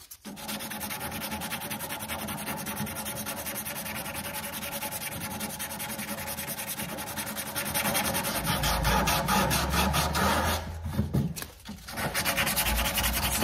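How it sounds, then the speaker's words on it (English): Sandpaper rubs back and forth across the bottom of a badly damaged wooden crank-style phonograph cabinet turned upside down, a close, continuous rhythmic scratching that grows heavier partway through with a brief pause. "So I'll sand the bottom here while it's upside down."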